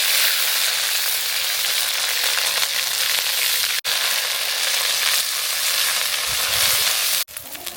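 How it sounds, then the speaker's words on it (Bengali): Onion paste sizzles loudly and steadily as it fries with pork for a village-style spicy masala pork curry. The bright, hissing crackle runs throughout, broken twice by very brief pauses. "এবার আমরা মাংস রান্নার জন্য দিয়ে দেবো পেঁয়াজ বাটা।"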